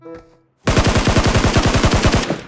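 Rapid automatic gunfire in the mobile battle-royale game Peacekeeper Elite, a loud sustained burst of evenly spaced shots that starts abruptly after a brief quiet moment and runs for nearly two seconds.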